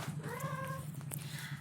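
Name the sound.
cat meowing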